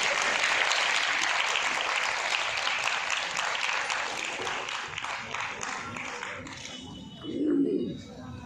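An audience claps at an International Women's Day event in a panchayat hall auditorium in Moradabad, sustained applause that gradually thins out, with a brief low burst near the end.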